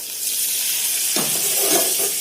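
Onion, garlic and ground masala paste sizzling in hot oil in a pan for a bitter gourd curry, a steady close hiss that swells into louder, fuller frying about halfway through.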